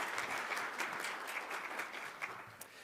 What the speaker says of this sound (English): please join me in one more rousing round of applause for all of our graduates this morning